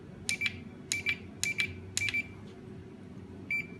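A wireless solar intruder alarm sensor gives a series of short electronic beeps, mostly in pairs, with a last single beep after a pause, faint over a low background hum.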